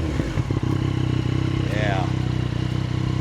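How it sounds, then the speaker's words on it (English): A 2019 Yamaha Tracer 900 GT motorcycle with 17,000 miles idles loudly up close with a steady throbbing rumble, and a short rev rises and falls midway; a voice speaks briefly. "Let's give her a rev"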